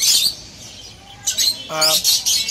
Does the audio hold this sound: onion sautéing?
no